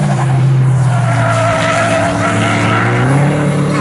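Racing cars, including a Vauxhall Holden VXR8, lapping a UK circuit in a club saloon race; loud, sustained engine roar with shifting pitch and tyre noise as cars pass close by.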